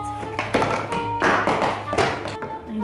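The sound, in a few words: small figurines being knocked over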